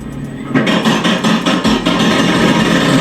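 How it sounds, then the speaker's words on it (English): Roller coaster anti-rollback dogs clicking against the metal teeth as a train is hauled up the chain lift: a loud, steady run of rapid mechanical clacks over a constant grinding rumble. "That clicking sound you hear going up a lift"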